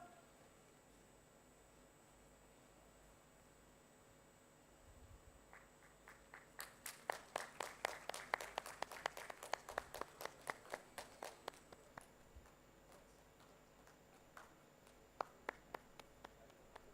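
Audience applause at a garment-sector launch event in Bhubaneswar, a quiet room breaking into a burst of clapping that swells for several seconds, fades, then returns as scattered claps.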